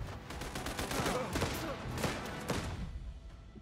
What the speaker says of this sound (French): La mitrailleuse va aider, mais ça va pas être fifou.